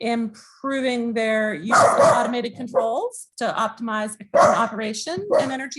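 A dog barks in a home setting, with repeated sharp yapping barks bursting out loud and near over continuous speech.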